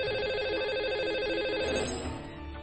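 A telephone rings out on a call placed to a lucky caller during a morning radio show, a loud, steady electronic ring that fades at the end, with no talking.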